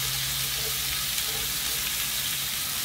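Chunks of kielbasa fry in a pan with a steady, close, even sizzle that crackles without a break from start to finish, and no voices over it.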